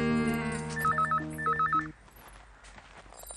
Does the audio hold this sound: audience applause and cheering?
no